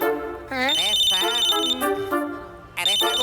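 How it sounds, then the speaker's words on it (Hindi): A phone rings in a Hindi action cartoon, a bright electronic ringtone repeating in short bursts, loud and close, with a cartoon character talking over it throughout. "मैं फोन नहीं उठाऊंगा"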